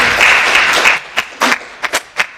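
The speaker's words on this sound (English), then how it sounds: "let's give another round of applause to our speaker" An audience at an academic lecture gives a brief round of applause that fades after about a second, leaving a few scattered, distinct claps trailing off.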